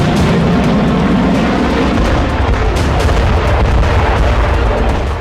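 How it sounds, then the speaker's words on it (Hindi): Cluster bomb submunitions exploding in a continuous loud barrage, dense overlapping booms and rumbling blasts with no pauses. "क्लस्टर बम टारगेट के नजदीक पहुंचकर लगातार फटते रहते हैं"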